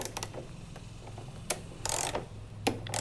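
A ratchet wrench loosens bolts on a scooter while a rack is fitted, giving quiet, close clicks and short metallic ratcheting bursts with small clanks in between.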